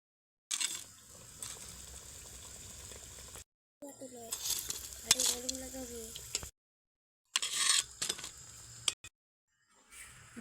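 Potato and Maggi noodle snacks fry in oil with a bright, hissing sizzle that comes in bursts separated by silent gaps, and a voice sounds briefly over the frying.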